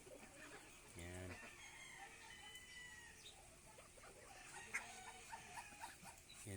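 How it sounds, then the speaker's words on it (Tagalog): Chickens crow and cluck on a small farm alongside ducks, faint and slightly distant, with a rooster call and scattered clucks amid background noise and some soft speech. "Mga itik, bibi, manok."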